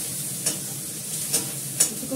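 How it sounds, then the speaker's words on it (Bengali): Meat cooks in a pan with ginger paste and spices, a soft steady sizzle broken by three brief scraping stirs of a spatula, close by and without talk. "এটা কষাতে থাকবো।"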